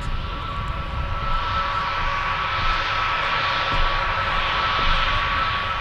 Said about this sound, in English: We've got a Turkish Airlines A321neo. And you can notice the sound of them engines.